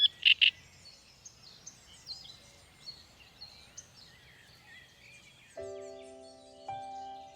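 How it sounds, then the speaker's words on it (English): A great reed warbler sings from reeds in a Danube backwater, loud harsh chirps opening the scene, then scattered calls against a quiet wetland background before a sustained tonal sound takes over near the end. "the loudest voice to be heard is that of the great reed warbler"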